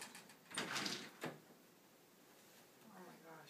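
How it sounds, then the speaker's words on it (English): A door is opened during a dog training session, giving a soft scraping swing and a brief thud of the latch, followed by quiet room tone and a person starting to speak. "when I open up the door"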